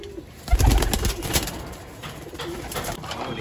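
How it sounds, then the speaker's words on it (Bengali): Pigeons cooing in a pigeon room, with soft, low, repeated coos close by, a louder burst early on, and light fluttering and shuffling noises in the background. "হ্যালো কবুতর"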